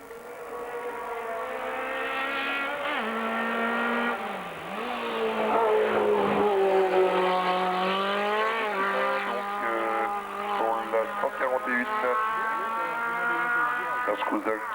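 A race car climbs a hill climb course in Hébécrevon, France, in 1995, its engine revving hard with rising and falling tones, gear changes and a steady loud drone throughout.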